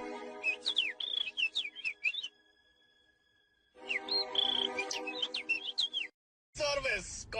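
Birds chirp and whistle in quick, bright bursts, some rising and falling, loud and close, with two long runs of song split by a near-silent pause and another short burst at the end.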